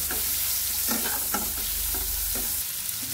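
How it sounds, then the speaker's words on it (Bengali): Onion frying in a pan for an egg curry, a steady loud sizzle with faint scraping stirs throughout, no voices. "এটাকে ভেজে নেবো, পেঁয়াজটাকে ভেজে নেবো"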